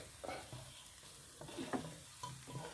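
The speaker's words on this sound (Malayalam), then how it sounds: "ചക്ക വറുക്കുക" Jackfruit pieces sizzle and crackle in hot oil in a pan, with soft stirring scrapes and bubbling bursts at close range, fairly quiet.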